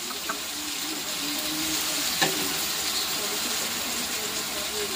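Soybean chunks and mashed boiled potato fry in a pan with a steady, close sizzle lasting throughout, broken by a single sharp utensil clack midway, with a faint voice murmuring in the background.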